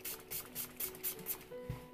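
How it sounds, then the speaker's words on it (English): Quick bursts of spray from a pump bottle of activator, about eight short hissing spritzes in a fast, steady rhythm, close by. "spraying it really good with that activator"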